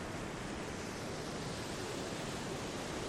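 Steady ocean surf played as a calming backdrop for a morning meditation, a continuous broadband wash with no distinct breaking swells, even and fairly soft throughout with no voices.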